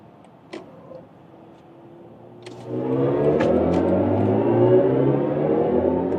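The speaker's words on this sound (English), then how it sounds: "that was the acceleration onto the Autobahn" A BMW i5 M60 Touring electric car accelerating onto the Autobahn. A quiet cabin with a few faint clicks gives way to a rising electric whine and a steady road roar that swells and holds, heard from inside the car.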